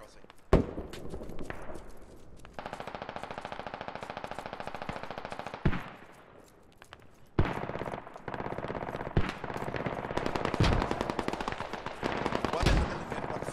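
Automatic weapon fire from the military shooter Squad, with sustained machine-gun bursts and sharp single shots interrupted by short pauses, loud and close, while voices talk over the action.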